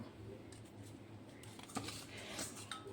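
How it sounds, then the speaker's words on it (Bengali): Boiled potatoes scraped over a metal kitchen grater, producing quiet, irregular rasping strokes and light metallic clinks close by in a home kitchen. "এখন আমি গ্রেটার দিয়ে এগুলি গ্রেট করে নেব"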